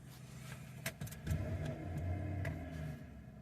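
A 2008 GMC Sierra 4x4 pickup with 163,000 miles and a service 4-wheel-drive warning revs briefly from idle, a low muffled engine rumble rising and settling, faint and heard from inside the cab.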